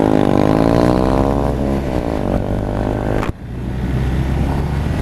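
A 2019 BMW R1250RS boxer-twin motorcycle with a quick shifter accelerates hard, its engine note climbing steadily in pitch before a sharp quick-shift gear change, after which it keeps pulling loudly and close by.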